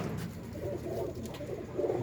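Pakistani pigeons, part of a flock of over 150 birds, cooing in low, throaty rolling phrases close by, overlapping calls that continue for the full stretch with no talking.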